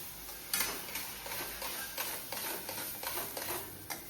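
Sheera stirred with milk in a pan on the stove: repeated scraping strokes of a spoon against the pan over a faint sizzle, close and fairly even in rhythm.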